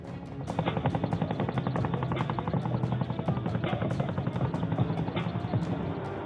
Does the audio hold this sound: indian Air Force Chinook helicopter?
yes